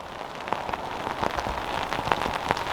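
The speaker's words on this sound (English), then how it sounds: "I don't know how good this video is going to be with all this rain." Steady rain falls outdoors, a dense continuous patter with scattered sharper drops striking a surface close by, with no voices.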